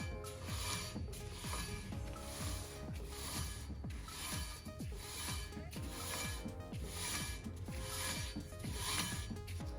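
A spinning BMW Style 5/19 three-piece wheel being sanded with Scotch-Brite and 80 to 120 grit sandpaper gives a continuous rasping rub that pulses in a steady, roughly once-per-second rhythm, close and sustained.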